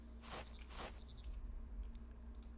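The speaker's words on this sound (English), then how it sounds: "And now when we're walking around, we'll hear footsteps." Footstep sound effects play as a character walks around in an Unreal Engine game, two soft, broad scuffing steps close together near the start, then fainter shuffles over a steady low electronic hum.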